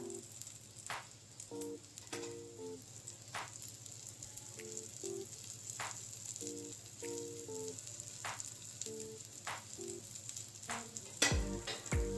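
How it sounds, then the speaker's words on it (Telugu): Dosa batter spread round on a hot pan sizzles steadily with oil drizzled around it, a constant frying hiss broken by light scraping and tapping, with a sharp clatter near the end and no talking. "రౌండ్గా దోశ వేసాక ఆయిల్ అయితే వేసుకుందాం చుట్టూరు అండ్ నీడిల్లో కూడా."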